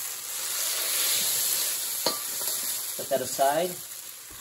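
Half-cooked kung pao chicken sizzles in a hot wok with a steady, bright frying hiss, then a person speaks briefly near the end as the sizzling continues.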